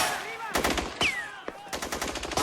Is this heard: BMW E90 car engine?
no